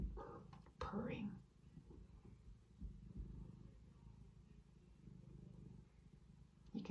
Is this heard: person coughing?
no